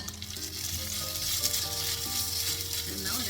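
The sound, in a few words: masala with grated coconut frying in a hot pan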